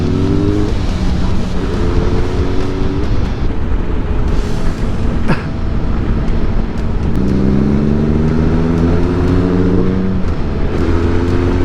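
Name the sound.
Kawasaki ZRX 1200 motorcycle engine revving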